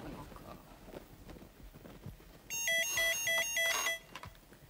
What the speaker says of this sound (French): Oh, téléphone encore.